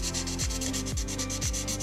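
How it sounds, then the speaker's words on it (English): Sanding by hand on a Porsche Carrera GT Gemballa Mirage body part during body prep, a steady close rubbing hiss in repeated strokes with a few brief pauses. "I will sand it a little bit."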